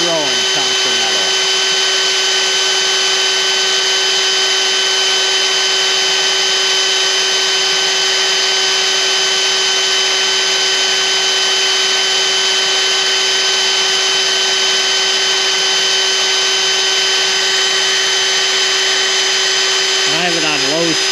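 A power drill runs at low speed under feed pressure, boring through metal with a steady, unbroken high whine and tonal hum for about twenty seconds, close and loud, with no talk.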